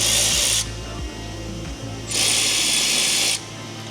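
Power tool whirring in two loud bursts while undoing the Phillips screws on a wheel-arch flare of a GWM Cannon Alpha ute, with low knocks and handling noise between bursts, close up.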